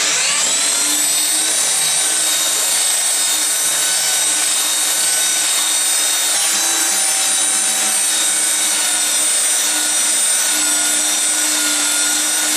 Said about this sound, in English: So I'm going to go ahead, sand this, and then I'll go upstairs.